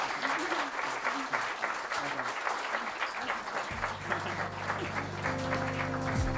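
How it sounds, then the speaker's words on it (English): Audience applause at a live stream event, a steady wash of clapping throughout; partway through, low sustained tones, likely background music, enter beneath it. "That's a good round of applause there."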